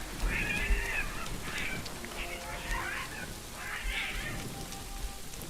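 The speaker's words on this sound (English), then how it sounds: "I think cats are fighting?" Cats fighting at night in a medieval town in Kingdom Come Deliverance 2, several yowling caterwauls rising and falling in bursts over a steady patter of rain, fairly faint and distant.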